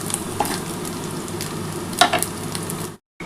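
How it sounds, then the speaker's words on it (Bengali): Boiled chana dal tipped into coconut frying in a pan, a steady near sizzle with stirring scrapes and a brief louder splash of sizzle, then sudden silence near the end. "এবার আমি কিন্তু ছোলার ডালটা ঢেলে দিচ্ছি"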